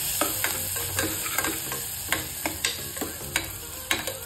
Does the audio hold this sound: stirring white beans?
yes